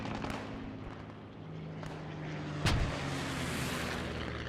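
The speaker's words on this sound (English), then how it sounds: "Strafes on all sides now." Aircraft strafing gunfire in the World War II shooter Post Scriptum on a modded Heelsum map, with a sharp loud burst standing out over a steady rumbling battle wash and scattered distant shots.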